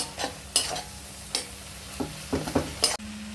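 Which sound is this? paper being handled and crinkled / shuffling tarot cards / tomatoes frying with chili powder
tomatoes frying with chili powder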